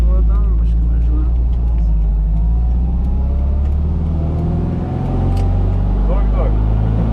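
A retro Mini Cooper driving, a loud low engine rumble and road noise filling the cabin, steady with slight shifts in pitch, while people talk over it.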